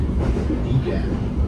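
The Sawunggali passenger train runs on Indonesian rails, heard from inside as a steady low rumble and rolling wheel noise, with faint voices in the background.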